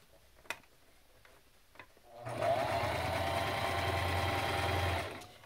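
A sewing machine stitches a fabric face mask. A few faint clicks come first, then the motor runs in one steady, close burst of about three seconds and stops.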